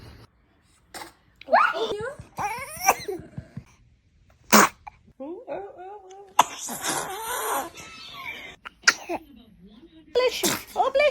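A newborn baby sneezes several times in short, sharp bursts, with adult voices speaking between and around the sneezes.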